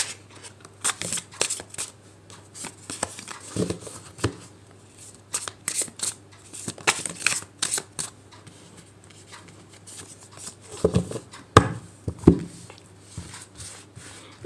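Tarot cards being shuffled and handled at close range during a Hindi-language reading, giving repeated soft riffling and flicking bursts with quieter pauses between them and no talk.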